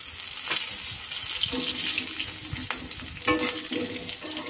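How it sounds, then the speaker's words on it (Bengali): Potatoes dropped into hot oil with bay leaf, dried red chilli and nigella seeds: a loud, close hiss and sizzle with a few clattering stirs and bubbling, no talk. "এবার ওটার মধ্যে আমি আলুটা ছেড়ে দেবো"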